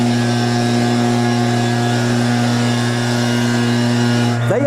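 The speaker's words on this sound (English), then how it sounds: "somebody will fire up a strimmer or a pneumatic drill" A strimmer or pneumatic drill runs nearby in a public place on the Fife coast, a loud, continuous mechanical drone that holds steady throughout and cuts off abruptly at the end.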